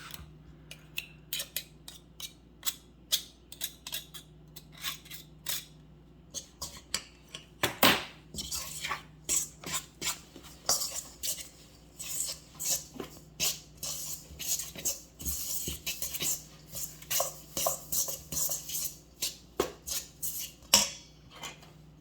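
A fork works through pie crust dough in a bowl, giving a long run of quick scraping, tapping clicks against the bowl, irregular and close, with no talking.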